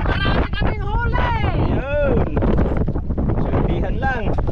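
Strong wind buffets the microphone with a constant roar during fishing, while voices shout and talk loudly over it throughout.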